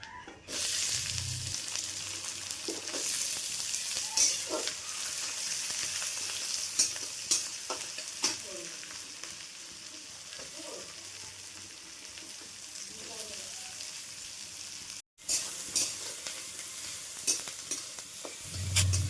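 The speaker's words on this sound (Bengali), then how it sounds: "পেঁয়াজগুলো নরম হয়ে আসা পর্যন্ত এটাকে আমি একটু নাড়াচাড়া করব।" Onions added to garlic and ginger are stirred and fried in a pan, a dense continuous sizzle with repeated scraping and clinking of a spoon, close and fairly loud, briefly cutting out once before resuming.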